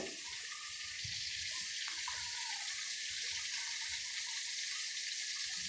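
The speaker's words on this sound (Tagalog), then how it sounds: "Lagyan mo konting tubig para lumamot yung baboy." Water is poured into pork cooking in a pan for pork chop binagoongan, giving a steady, fairly quiet rushing hiss that runs evenly from start to finish with no voices.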